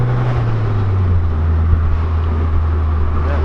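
Nissan S-chassis car with an SR engine and Kakimoto exhaust idling or cruising steadily, a loud, smooth low drone with a constant hum and no sharp changes.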